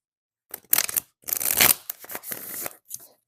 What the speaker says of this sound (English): And I'm shuffling up the cards for you now.